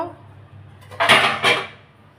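Pots and pans clatter together during washing, two short loud metallic knocks and scrapes about a second apart over a quiet kitchen background.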